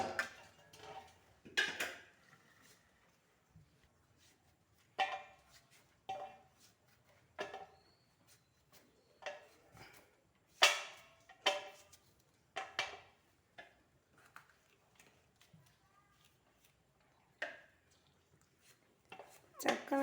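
A knife chops jackfruit for chips on a board in scattered, sharp knocks, some single and some in quick bursts, close and fairly quiet with gaps of near silence.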